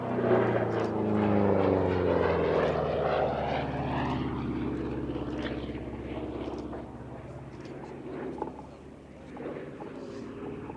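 A Republic P-47D Thunderbolt piston-engined fighter flies past at an airshow, its propeller drone loud and sustained, rising and falling in pitch as it passes, then fading slightly toward the end.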